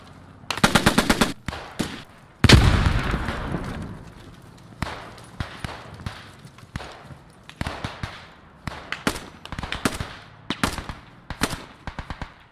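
Rapid bursts of MG 42 machine gun fire in the World War II game Post Scriptum, loud sharp volleys repeating in short rhythmic strings with one heavy blast, no talk over them.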